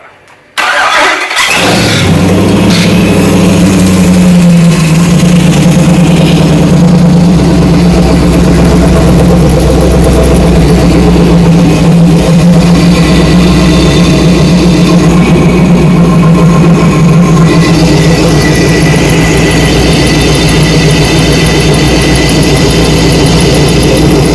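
A FiTech-injected LS swap engine in a 1946 Chevy truck cranks, catches after a brief start burst, then settles into a loud, steady, rumbling idle that holds unchanged for the rest of the clip, with no voices over it.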